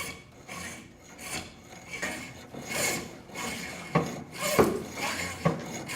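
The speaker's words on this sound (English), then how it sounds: "Just a little bit at a time. Not a whole bunch, but just very lightly start to carve it." A hand blade lightly carves ivory, making a rhythmic series of short, close scraping strokes, each a dry rasp, with a few sharper scrapes toward the end.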